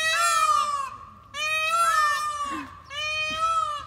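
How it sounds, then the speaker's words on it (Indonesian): A peacock on Pfaueninsel, Berlin, gives three loud, wailing, honking calls close by, each about a second long and separated by short pauses. "suara burung meraknya seperti ya."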